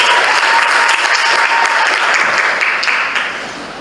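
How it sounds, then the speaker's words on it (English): An audience at a student association handover and inauguration ceremony bursts into sustained clapping, a dense wash of many hands that holds steady and then fades toward the end. "Can you warmly join our hands and clap for God?"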